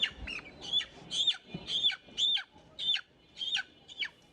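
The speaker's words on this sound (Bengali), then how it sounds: "একবারে খাঁটি অরিজিনাল পিওর বরিশালের মুরগি" A Barishal chicken gives about nine short, high-pitched calls in a steady, evenly spaced series, fairly faint against a quiet background.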